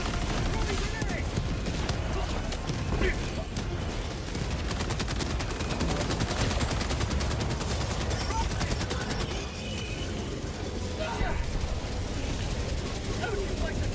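Sustained automatic gunfire from a deployed sentry turret in the Helldivers video game, a dense continuous fusillade running the whole stretch amid battle noise, with voices talking over it.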